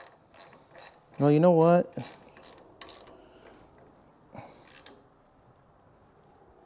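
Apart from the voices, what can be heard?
ratchet tightening down rear brake parts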